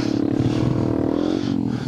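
Honda Grom motorcycle ridden off road on wet, muddy ground, its small engine droning and revving up close with scraping and rattling under wind noise.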